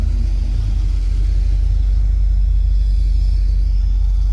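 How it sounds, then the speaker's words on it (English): A 1975 Chevrolet Corvette idles steadily, a deep low rumble with a smooth, even exhaust note held close and loud without a break. "It's been idling outside today for a while, for probably 10 or 15 minutes."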